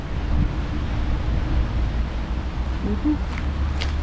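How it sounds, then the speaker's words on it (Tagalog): Steady, loud rumbling wind buffets the microphone throughout, with a low roar like surf or open water underneath and a few faint tonal blips near the end. "Sobrang hangin lang siya"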